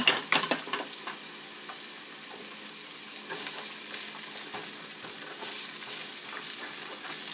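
Onions dropped into hot avocado oil and stirred in a pan, giving a loud, continuous close-up sizzle with a few sharp crackles at the start and scraping stir sounds throughout, no talking.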